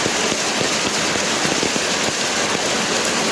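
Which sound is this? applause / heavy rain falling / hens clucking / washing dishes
heavy rain falling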